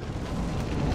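A defensive mine detonates in modded XCOM 2: War of the Chosen, a loud, deep, rumbling boom that fills the whole moment without any talk.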